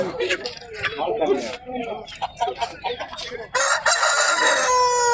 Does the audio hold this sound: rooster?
yes